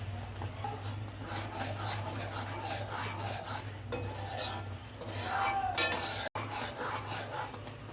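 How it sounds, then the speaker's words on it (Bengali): Ground panch phoron spice being stirred into a pan of plum chutney, a steady scraping and rubbing of a utensil against the pan with faint metallic clinks, continuous and close. "এবার আমি এবার ভাজা যে পাঁচফোড়ন মশলাটা সেটা মিশিয়ে দেবো"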